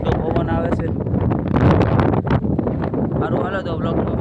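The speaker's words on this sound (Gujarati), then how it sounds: "તો ટાટો પવન આવે છે" Cold wind blows hard near the Karkoliya Ramapir temple, buffeting the microphone in loud continuous gusts while a person talks.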